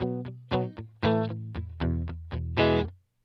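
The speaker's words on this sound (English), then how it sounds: "this is the sound of a guitar with no reverb on it." A dry electric guitar plays a short riff of plucked notes and chords with no lingering echo, each note cutting off sharply before the next.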